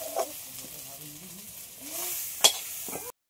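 Shrimp, banana flower and grated coconut sizzle steadily in a frying pan while being stirred, with soft scraping strokes and one sharp utensil clink against the pan, close and without talk.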